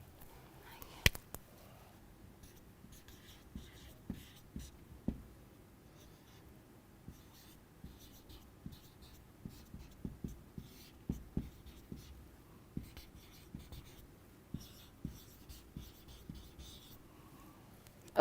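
Pen or pencil scratching across paper in a quiet room, a run of short irregular strokes with small taps, close and soft, no talking over it.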